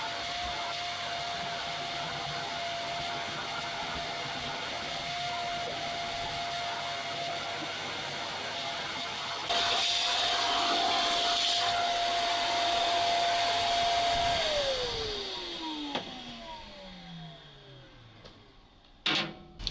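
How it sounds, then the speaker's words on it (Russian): A vacuum cleaner runs inside a BRDM-2 armored amphibious vehicle, a steady whining drone that gets louder partway through, then winds down in a falling pitch, followed by a few sharp knocks. "сейчас я буду здесь пылесосить"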